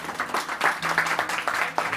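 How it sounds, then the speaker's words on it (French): A small restaurant audience applauds chef Kevin at a reopening greeting in Moissac, steady mid-distance clapping lasting the whole moment with a faint voice mixed in. "Je suis émue quand on applaudit Kevin"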